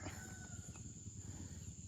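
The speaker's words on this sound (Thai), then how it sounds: "มีไก่ป่าด้วย ไก่ป่า" A red junglefowl, a wild chicken, crows faintly and far off in hillside forest near coffee plantations on Doi Sakad, heard as a thin distant call over a steady low rumble of ambient noise.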